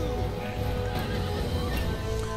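Horses of a heroic horse lords cavalry unit in the game Total War: Attila whinny and neigh with steady hoof clip-clop over a dense, continuous battle-field din throughout.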